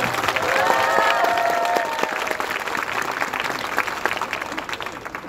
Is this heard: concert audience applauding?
yes